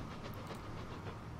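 Trains roll along the tracks in the video game Transport Fever, a soft, continuous rumbling clatter heard faintly at a distance with no talking over it.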